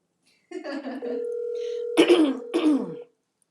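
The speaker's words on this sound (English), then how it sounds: "this cough that I can't seem to get rid of" A person clears their throat and gives a couple of rough coughs, close and fairly loud, while a steady electronic tone hums underneath.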